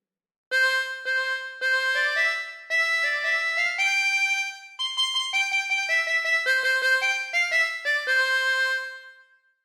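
Row Row Row Your Boat is played on a chromatic harmonica as a clear solo melody, with steady held notes phrase after phrase and no other sound.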